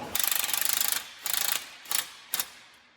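A ratchet wrench snugging suspension fittings during a suspension and rust repair, quick rapid clicking bursts in four strokes that grow shorter, close and crisp with no talking.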